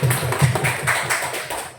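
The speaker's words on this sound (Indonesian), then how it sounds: "Tepuk tangan buat kita semua." A group claps hands at an elementary school gymnastics and sports event, with quick, fairly rhythmic claps continuing steadily and close by.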